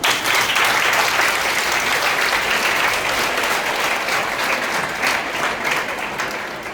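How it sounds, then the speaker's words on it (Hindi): An audience bursts into sustained, loud applause, the dense clapping running steadily and fading a little near the close. "एक बार ताली बजा दीजिए।"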